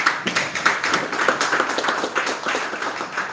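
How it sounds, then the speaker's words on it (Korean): Steady applause from an audience at a National Assembly forum on blockchain, continuous clapping at an even level throughout with no talking. "그래서 이분들을 위해서 한 번 더 박수 드립니다"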